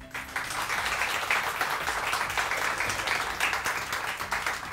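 A crowd applauds with a dense, steady patter of many hands clapping together, sustained at an even, moderate level throughout.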